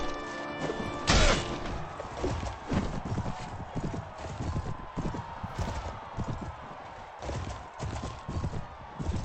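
Galloping horse hooves in Mount & Blade Warband, a rapid, continuous clip-clop with a brief louder impact near the start.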